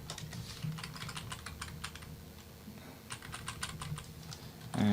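Typing on a computer keyboard while entering a username and password for upgrading a Movistar router: a steady run of quick, close key clicks in bursts, with a brief pause partway through and a louder knock at the end.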